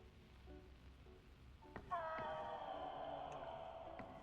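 A cat in the video game Crime Scene Cleaner lets out a single drawn-out meow, clear and fairly close, over a quiet background with faint thuds before it.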